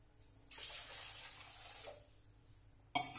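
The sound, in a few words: water being poured into a pot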